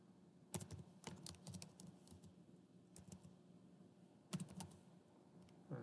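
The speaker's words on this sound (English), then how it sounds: "I am just typing that sales order" Someone types on a computer keyboard, entering a sales order, in uneven bursts of close, crisp key clicks separated by short pauses, with no talking.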